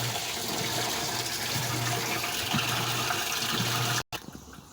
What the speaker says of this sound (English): it paused again, adding more water